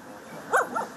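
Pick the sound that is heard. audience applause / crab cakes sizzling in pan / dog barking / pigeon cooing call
dog barking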